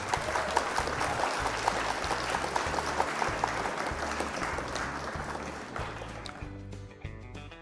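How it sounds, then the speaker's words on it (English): An audience at a Flesh and Blood card game event applauds the opponent of a Rhinar player, a dense sustained clapping over a strong rhythmic music track that carries on and thins out toward the end. "Round of applause for our opponent."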